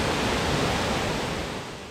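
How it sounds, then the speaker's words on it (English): A waterfall in the New River Gorge roars as a dense, steady wash of white noise, close and loud throughout, easing slightly at the end with no voices. "This is the waterfall that I mentioned we drove past earlier"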